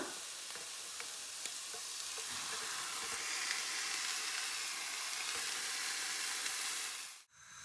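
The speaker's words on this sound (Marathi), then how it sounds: "आता हे सगळं व्यवस्थित हलवून घ्यायचं आहे त्यामध्ये ॲड करूया आपण स्मॅश करून घेतलेल्या भाज्या" Mashed vegetables fry in a pan for pav bhaji, a dense steady sizzle with scattered stirring clicks that cuts off abruptly near the end; no talking.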